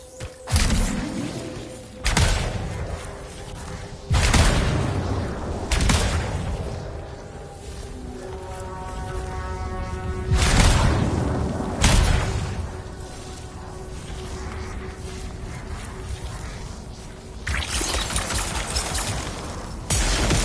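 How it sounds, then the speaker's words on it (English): Explosions in the Anthem video game come as several loud, heavy blasts spread over the stretch, mixed with rattling gunfire-like bursts and a steady tonal hum underneath. "It'll be a contained explosion."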